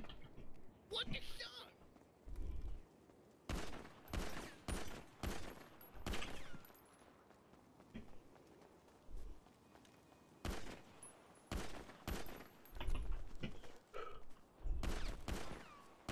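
Rapid bursts of gunfire in the GTA RP NoPixel game, several clusters of sharp repeated shots separated by short pauses, with talk in between.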